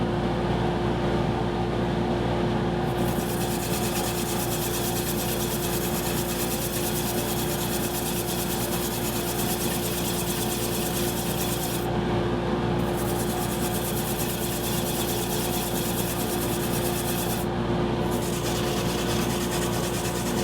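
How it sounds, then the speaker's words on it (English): A lathe whirs continuously while sandpaper rubs against a spinning wooden platter, a steady loud abrasive hiss with brief pauses in the high grinding tone. "Now I can start running through all the grit, get it sanded up"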